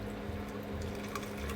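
Water poured steadily into a foamy whisked mixture, a soft continuous liquid rush, faint and close, with no voices.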